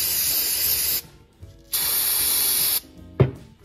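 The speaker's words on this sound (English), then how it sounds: "So we'll spray this down with some brake clean," Brake cleaner sprays in two long, loud hissing bursts onto a Chevy 283 small-block cylinder head, separated by a pause, followed by a short clank.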